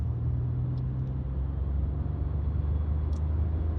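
A used 2000 Lexus that needs some care hums along on the road, a quiet, steady low engine and road drone with no other sounds.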